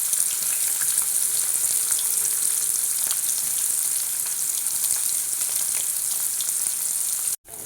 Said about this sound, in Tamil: நான் பன்னீரை பொரிச்சு எடுத்துக்கிடுவேன்